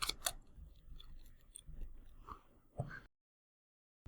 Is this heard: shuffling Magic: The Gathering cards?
yes